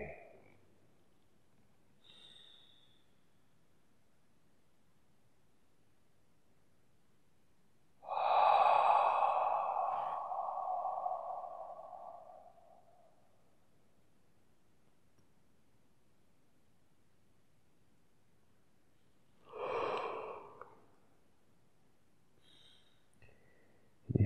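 Deep, slow breaths during a guided meditation: one long, loud exhalation near the mic, then a quieter second breath, with long near-silent pauses between.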